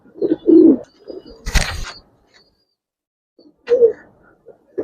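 Giribaz and colored fancy pigeons in a keeper's collection give several close, low throaty coos in short bursts, broken by one sharp rustling clatter and stretches of near silence.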